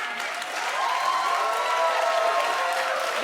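A studio audience at a Halloween talk-show taping breaks into sustained applause with cheering and whoops, a dense steady wash of clapping that swells slightly and holds without pause.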